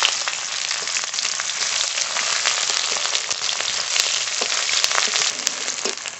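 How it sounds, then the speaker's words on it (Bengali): Chopped onion and tomato frying together in oil for a fish curry base, a dense continuous sizzle like steady rain, close and fairly loud with occasional sharper crackles. "পেঁয়াজ আর টমেটো কুচি একসঙ্গে ভেজে নেব"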